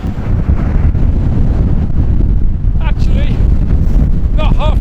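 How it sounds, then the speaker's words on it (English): Storm wind at Stoer roars hard against the microphone as it tears through a telegraph pole and its wires. A steady, loud rush is broken by brief wavering whistles near the end. "You can hear that, the wind raging through that telegraph pole and the wires."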